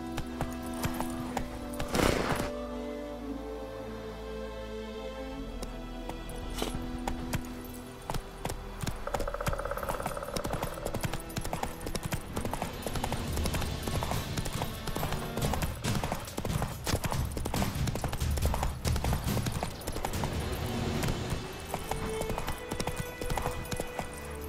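Roach the horse gallops in The Witcher 3, hooves clip-clopping in a steady rhythm over game music and ambience, with a brief whinny early on.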